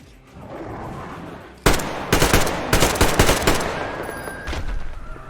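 Shotgun blasts in Metro Exodus: a sudden loud boom followed by a rapid string of heavy, close shots, each with a sharp crack and decaying rumble, over a low background hum.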